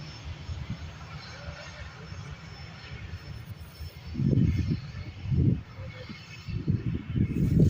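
Airbus A320 taxiing at an airport as a distant, steady engine rumble, growing louder in pulses toward the end, with people talking nearby.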